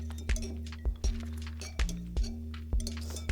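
A utensil stirs borax solution in a glass, producing a handful of light, close clinks at uneven intervals over a steady low hum.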